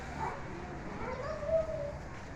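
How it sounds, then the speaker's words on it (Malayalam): On a roadside outdoors, a dog with only half of one leg gives a faint, short bark and whine at a moderate distance over low background noise. "പട്ടി."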